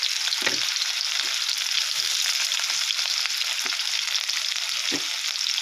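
Onions sizzle and fry in hot oil in a wok, a steady close hiss with a few soft stirring knocks, no talking.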